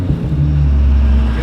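A Mazda Miata track car's engine running loud and close, a steady low rumble idling just after restarting from a stall, brief and without talk over it.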